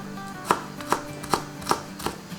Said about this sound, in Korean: 홍고추도 다져주세요